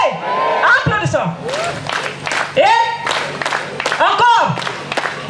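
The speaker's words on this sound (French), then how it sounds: "Applaudissons." Congregation at a church Sabbath feast-day service applauding, with scattered claps, cheers and whoops rising under a voice and shouting throughout.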